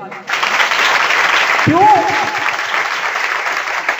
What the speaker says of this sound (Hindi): इस भाई के लिए तालियां बजाओ।